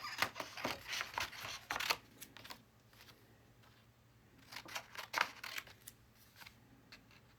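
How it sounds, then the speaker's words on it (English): Scissors cutting out a printed paper label, heard up close and quiet as bursts of crisp snipping and rustling, one cluster at the start and another later, with a near-silent gap between. "Then we're going to cut out the label that we printed."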